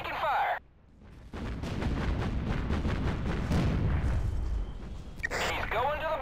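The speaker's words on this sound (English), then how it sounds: "We're taking fire." Battle gunfire in Battlestations: Pacific, set at the Battle of Okinawa, pounds as dense rapid anti-aircraft fire and rumbling blasts for several seconds, with radio voices speaking before and after the barrage.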